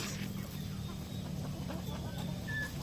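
Native chickens cluck softly and repeatedly while pecking at cracked corn, a close, busy flock murmur with scattered higher calls over a low background hum.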